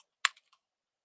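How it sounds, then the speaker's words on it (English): A few quick computer keyboard keystrokes while typing into a Slack workflow form, three close, crisp clicks with the first loudest, then quiet. "Okay, I'm typing."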